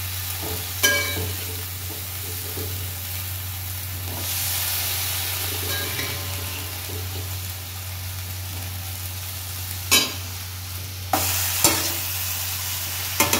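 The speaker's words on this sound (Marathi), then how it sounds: "शेवगा याच्यात चांगल्या प्रकारे मिक्स करायचा आहे. मसाला चांगल्या प्रकारे शेवगामध्ये मिक्स झाला पाहिजे." Drumstick pods are stirred into masala frying in a pan, giving a steady close sizzle with a few sharp scraping clanks of the spoon against the pan, no talking.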